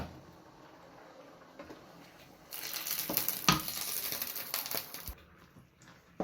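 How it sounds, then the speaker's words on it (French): Broth is poured into a pan of mushroom risotto made with cèpes, starting a loud, hissing sizzle midway. It bubbles for a few seconds with scraping knocks, then dies back to a faint simmer. "le vin blanc réduit, on mouille au bouillon"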